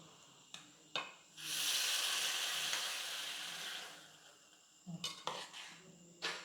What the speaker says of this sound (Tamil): இப்போ நெய்யோடு சேர்த்து அப்படியே மிக்ஸ் பண்ணி விட்டுருவோம்